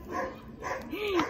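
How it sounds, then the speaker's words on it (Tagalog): A dog at an outdoor meal of bulalo beef soup gives short yips and a rising whimpering whine, begging for food, close by amid faint background voices. "Hingi na nung aso sa kabila."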